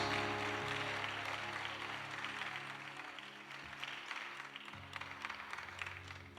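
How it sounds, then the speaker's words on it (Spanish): Congregation applauding for Jesus during a church service, a faint, sustained wash of many hands clapping heard from a distance, without a break. "Dele aplausos a Jesucristo."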